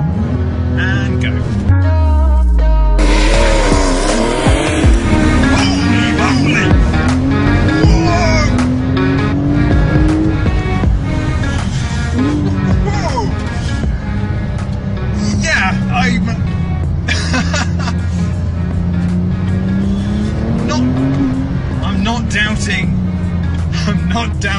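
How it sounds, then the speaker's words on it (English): A Porsche 911 Turbo S launching hard with launch control, its engine revving then surging through rising gear pulls, loud and continuous, with someone talking over the acceleration. "So let's put launch control on."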